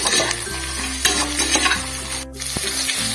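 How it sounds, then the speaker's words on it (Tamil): Beans and peas sauté in a pan for vegetable biryani with a loud, close sizzle and steady stirring scrapes and clatters against the metal, alone with no talk. "இப்ப பாருங்க இந்த காயெல்லாம் கொஞ்சம் சீக்கிரம் வதங்குங்க"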